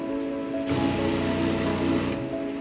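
Sewing machine stitching a fall onto a saree, running in one steady whirring burst of about a second and a half between quieter moments, close by and moderately loud, with no talk.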